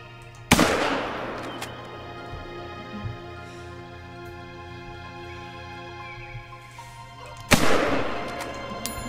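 Two loud rifle shots ring out in The Hunter video game, aimed at a distant deer, each a sharp crack with a long echoing tail, the first near the start and the second about seven seconds later, over a steady game ambience.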